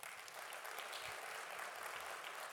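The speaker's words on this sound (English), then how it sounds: "so let's give him a big round of applause." Faint, distant applause from the audience at a mayor's community summit, a dense even patter of many hands that holds steady throughout without voices.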